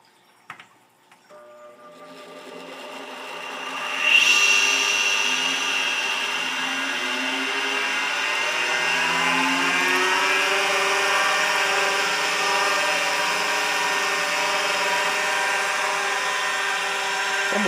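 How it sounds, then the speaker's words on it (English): A Quantum 2040 8-inch hard drive's AC motor spins up at first power-on: a click, a whine that rises over a few seconds, then a steady, close whirring hum that holds with no talk. "It's almost like the AC motor spins up before the rest of the thing does."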